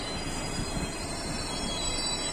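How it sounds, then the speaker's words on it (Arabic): A metro train arrives on the opposite platform with a steady rumbling roar and high wheel squeal, continuous and fairly loud, with no talking. "بص يا جدعان المترو التاني جه الناحيه التانيه."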